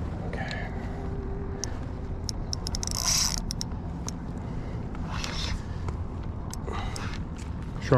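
A fishing reel free-spools as a shark takes a live bait while fishing from a bridge in the Florida Keys, giving a faint mechanical whir and line-running rasp under steady outdoor wind and background noise.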